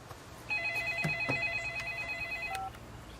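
A telephone rings with clear electronic tones in repeating bursts, moderately near, set against a quiet room before and after.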